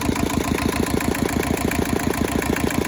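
A Hinomoto tractor engine idling steadily, its cooling fan pulling a strong flow of air, with an even low chugging pulse and a broad airy hiss, close and continuous without speech.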